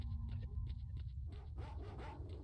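Dogs bark in short, faint, repeated bursts in the video game S.T.A.L.K.E.R.: Shadow of Chernobyl, set against a low, steady ambient rumble.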